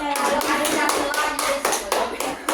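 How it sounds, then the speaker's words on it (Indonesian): Classroom of students claps for a presenting group, a few distinct hands striking in a loose uneven rhythm, close and fairly loud, with a voice briefly audible. "tepuk tangan dulu"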